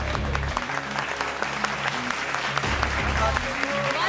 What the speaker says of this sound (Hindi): आपकी बहुत सारी तालियों में let's welcome on the set बरकत एंड उज़्मी।